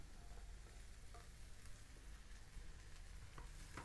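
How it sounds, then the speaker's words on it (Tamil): Chopped vegetables and green peas sauté in a pan for vegetable cutlets, a steady close sizzle with occasional faint stirring scrapes and no talking. "இதெல்லாம் வதங்கி கொண்டு இருக்கு"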